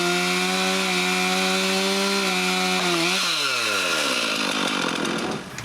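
A new chainsaw runs loud and steady while cutting up a large fallen tree at a chalet, the engine pitch sagging and wavering as the chain bites into the wood, then rising again near the end.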